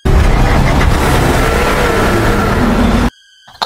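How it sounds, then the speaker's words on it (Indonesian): A car engine roars loudly and continuously in an Indian horror film scene, a dense, strained revving that cuts off abruptly into near silence at the end. "Sam yang mencoba menghidupkan mesin mobil untuk membawa Gayatri ke rumah sakit"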